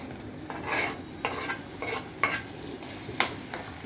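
Onion, ginger, garlic and tomato sautéing in a pan, a soft steady sizzle broken by several distinct scraping stirs of a spoon against the metal, close and moderately loud with no voices.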